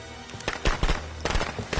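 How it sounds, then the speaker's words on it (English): Firecrackers thrown in the Friday the 13th video game, a rapid irregular string of sharp cracking pops with a few louder bursts, over low game ambience, no voices. "I hope this person did not just throw firecrackers to give us attention"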